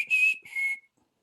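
A bird whistles two clear, sustained high notes with a short break between them, close and fairly loud, then falls silent.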